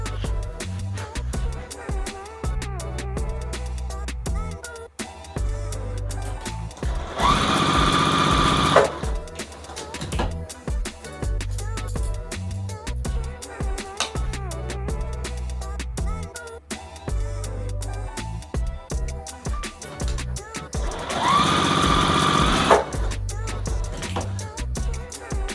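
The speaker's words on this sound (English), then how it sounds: "then we're just going to sew on that straight line" A sewing machine stitches a straight seam across quilt pieces, its close, steady mechanical whirr running in long bursts with two brief louder stretches in between.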